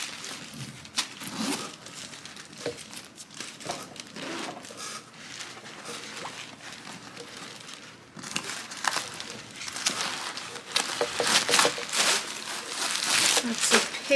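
Packing paper and plastic crinkle and rustle while a Coach Ellie File Bag is unboxed, close and fairly steady, growing louder and busier in the second half.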